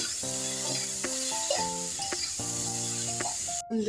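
Spices sizzle in a hot pan while a spatula scrapes and stirs now and then, cooking dried fish with cauliflower, beans and potato, over a steady tonal hum in the background.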